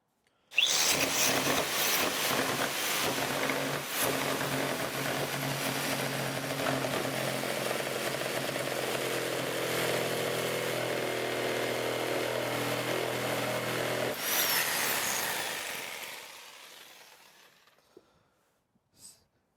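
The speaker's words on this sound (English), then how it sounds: "Since the jigsaw cannot cut through these nails, I had to cut to the inside of the stringer" Jigsaw cutting pallet slats on the inside of the stringer to avoid the nails, a steady close buzzing cut for about fourteen seconds that then winds down and stops.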